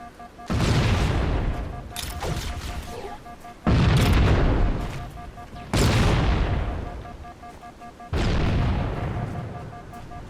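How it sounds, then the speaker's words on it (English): Explosions in Halo: Combat Evolved, four heavy booming blasts spaced a couple of seconds apart, each loud and close with a long rumbling tail over a faint steady game tone. "Look at all of these explosions, fool!"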